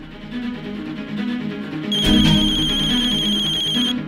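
A telephone ringtone starts partway through with a repeated electronic ring that grows loud and continues to the end, over a quiet indoor background in a Hindi TV drama scene.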